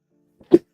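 A single short, close sneeze, preceded by a tiny intake sound, bursting out loudly in an otherwise silent moment.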